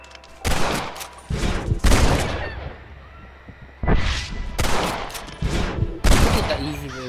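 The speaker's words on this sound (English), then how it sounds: "I bet you can't beat Ira Shelton in shooting" Gunfire during a shooting contest in Red Dead Redemption: loud, rapid shots in several clustered volleys separated by brief lulls, with heavy low-end thumps.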